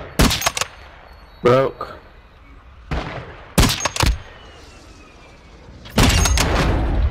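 Rapid bursts of gunfire in the video game Warzone 2.0 crackle in several loud volleys, with the longest spray near the end, while players talk and shout between the shots.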